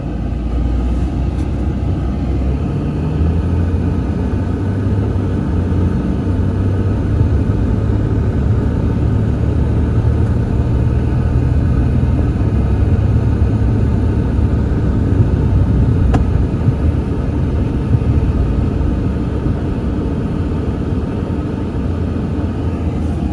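A 2002 Chrysler Concorde Limited, bought cheap at a Copart auction, driving along in gear with a steady, loud low engine and road rumble, continuous and unbroken with no talk.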